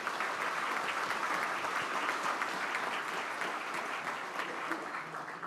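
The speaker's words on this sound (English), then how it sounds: "Let's give these people a round of applause." A room of attendees at a Rotary club meeting applauding, a sustained, even roar of many hands clapping from start to finish, moderately distant and without talk over it.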